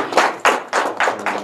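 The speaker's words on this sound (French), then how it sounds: "Je demande à ce qu'on l'applaudisse au moins une fois." Five loud, evenly spaced claps or thumps, close and distinct, in a short burst with no talk, offered as applause for the Emperor of Nikki during a visit to Nikki.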